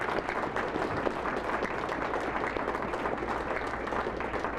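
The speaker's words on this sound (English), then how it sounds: "They deserve a round of applause" An audience at the 2013 Cascade Liberty Summit applauding, a dense, sustained wash of many hands clapping at even loudness throughout, with no talk over it.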